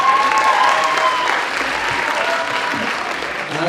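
Loud audience applause for a university KVN comedy team performing in a semifinal on stage, a thick, continuous roar of clapping that stays strong and fades only slightly toward the end.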